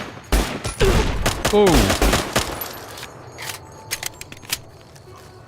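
Gunfire from the video game Fallout New Vegas comes as a dense, loud burst of rapid shots followed by scattered single shots. A player briefly exclaims over it.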